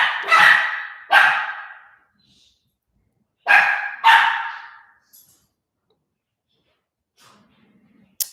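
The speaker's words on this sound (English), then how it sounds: "What are they barking at?" Dogs barking in four loud, close bursts arriving in two pairs, separated by quiet gaps, with a faint brief sound near the end.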